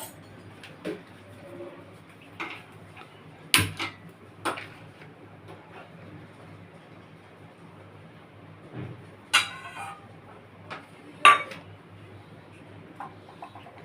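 A gas stove igniter clicks in a few sharp, isolated snaps spread over a quiet kitchen, with faint clinks of cookware between.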